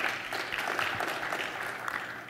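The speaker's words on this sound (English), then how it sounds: "Clap if you feel Alabama is faster than California." A conference audience at OSCON 2012 gives a burst of steady clapping, many hands at a moderate, even level from start to finish with no voices on top.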